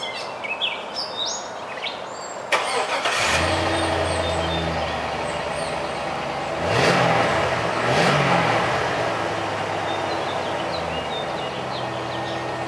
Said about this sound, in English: So go ahead and start it up and let you hear it now and see what it sounds like after I get them on there.